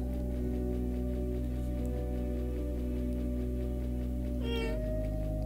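Cat meowing in the Cat Museum video game, a single short meow over a steady droning game soundtrack, with a brief chirpy burst near the end.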